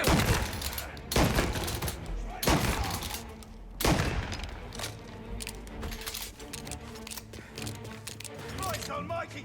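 Bursts of gunfire in Mafia: Definitive Edition, several sharp loud shots at irregular intervals, the first few spaced about a second apart, followed by fainter clatter and thuds of a game scene.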